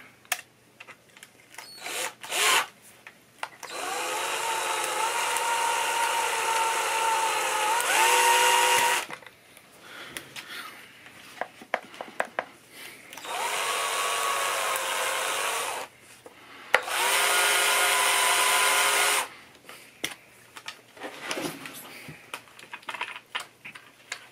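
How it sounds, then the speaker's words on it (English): A power drill whirs in three sustained bursts of several seconds each while repairing a sticking key on a Hohner keyboard, separated by quieter clatter and handling noises, close and loud. "We can try the drill again."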